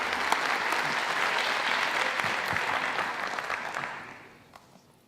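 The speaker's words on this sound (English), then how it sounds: "Keep the applause going." Audience applause welcoming a storyteller to the stage at a live storytelling event, loud dense clapping that holds steady and then tapers off into scattered claps near the end.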